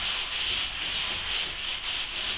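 Steady back-and-forth rubbing by hand polishes a smooth wooden Gustavian cabinet door, a continuous hissing friction sound with gentle rhythmic swells, close and alone.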